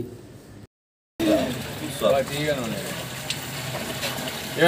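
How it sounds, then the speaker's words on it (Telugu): Drinking water gushes and splashes steadily into drums, partly masked by a person talking over it. "స్వయంగా డ్రమ్ములకు నీళ్లు పట్టడం జరిగింది"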